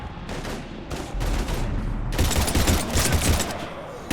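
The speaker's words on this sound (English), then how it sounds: "We're taking heavy fire." Gunfire in the video game Mass Effect 3 during a husk attack: dense, continuous bursts of rapid shots and impacts, loud and close, building into a heavier barrage, with no talking over them.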